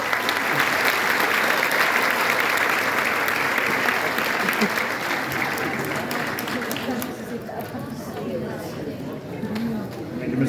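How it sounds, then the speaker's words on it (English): Graduation ceremony audience applauding, a sustained dense wash of many hands clapping that fades gradually over several seconds, with crowd chatter and voices beneath. "Let's give him one last round of applause."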